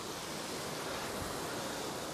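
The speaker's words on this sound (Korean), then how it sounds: "시원한 물소리가 등산객을 반깁니다." Steady, dense rushing of flowing water along a rocky mountain trail in Portugal fills the whole stretch, loud and unbroken, like a nearby stream or small cascade.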